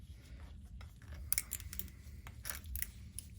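Snips and small crisp clicks as supports are trimmed from a 3D-printed part, several quick cuts close up and fairly quiet, with brief pauses in between.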